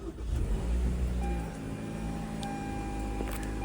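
A 2025 Toyota RAV4 Hybrid XLE Premium AWD powers on with the push start button, giving a low steady hum with faint electronic chimes and tones, fairly quiet and close, with no talking.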